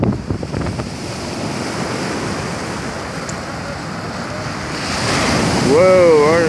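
Ocean waves break on a shore in Spain with a loud, continuous wash and wind buffeting the microphone, swelling toward the end.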